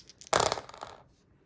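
Handful of six dice rolled onto a tabletop during a game of Age of Sigmar, a sudden close clatter of small plastic cubes tumbling and settling over about a second, alone in a quiet room.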